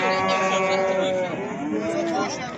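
Cattle at a livestock market low with long, harmonic moos that carry on almost without a break, close and loud against faint background bustle.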